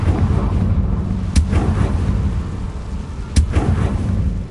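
Two sharp, loud blasts of the Confringo fire spell in Hogwarts Legacy, spaced about two seconds apart, each a sudden crack over a low rumbling background with no talking.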